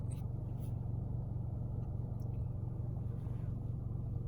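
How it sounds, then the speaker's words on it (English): A 2018 Toyota Camry XSE with the 2.5 engine pulls away under acceleration, shifted by paddle, heard from inside as a steady, close, low engine and road rumble with no clear rise in pitch. "So I'm going to do just a quick little acceleration test here using the paddle shifters."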